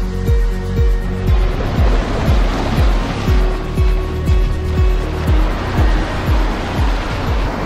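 Ocean waves at Steps Beach in Rincón, Puerto Rico, make a loud, continuous surf wash with a steady rhythmic low pulsing running throughout, and no voices.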